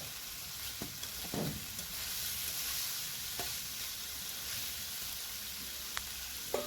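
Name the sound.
stirring banana flower curry with masoor lentils in a pan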